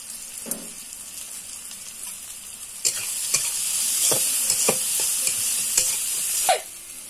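Spice paste with ginger and chilli powder sautéed and stirred in a pan, with a little water added: a hissing sizzle swells midway, broken by repeated sharp scrapes and taps of a spatula.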